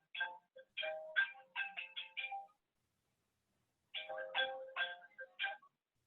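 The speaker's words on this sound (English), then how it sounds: "that wasn't my phone, it was Cotton's" A mobile phone rings with a melodic electronic tone, two clear phrases of quick notes separated by a pause of silence, fairly faint and alone.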